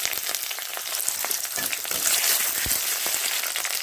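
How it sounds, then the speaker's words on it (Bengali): Garlic and chopped onion fry in hot oil in a pan, a close, steady crackling sizzle with scattered pops and occasional stirring scrapes, growing slightly louder midway. "রসুনটা একটু লাল করে ভেজে নেব।"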